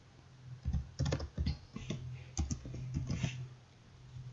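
Keys clatter on a computer keyboard in quick irregular bursts of clicks, close and moderately loud, with brief pauses between runs while text is entered in a design app; nobody talks over it.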